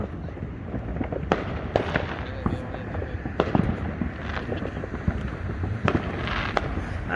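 Fourth of July fireworks and firecrackers go off all around, sharp scattered bangs and pops at irregular intervals over a continuous rumbling background of distant explosions.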